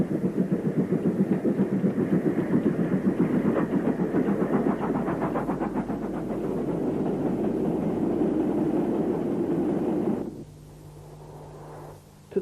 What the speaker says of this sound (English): This mogul was on an iron ore train from Banbury.